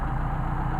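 A Mercedes 190SL engine with Solex carburetors idles steadily after synchronization, a low, even rumble with a regular pulsing throb, close and continuous, with no talking.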